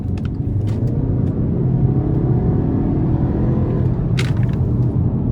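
A 2022 Volkswagen Passat SE with a 174 hp turbocharged four-cylinder engine accelerating hard out of a corner, a steady loud low rumble heard from inside the cabin, with no talking.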